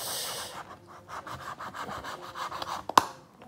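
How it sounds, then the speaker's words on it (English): Dull scissors chew through a foil Upper Deck hockey card pack wrapper with a series of close, scratchy, rasping cuts, ending in a sharp snip. "I need to get a sharper pair of scissors"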